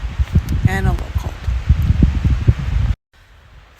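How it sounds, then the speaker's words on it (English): Gusty morning wind rustles through leaves and branches nearby on the Appalachian Trail, buffeting the microphone, with a brief bird call early on before it cuts to near silence. "It's a little windy this morning"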